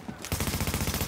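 Rapid video game gunfire in a rogue-style multiplayer game, firing as a fast, loud automatic burst of evenly spaced shots.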